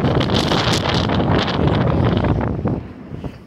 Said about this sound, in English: the wind is blowing them off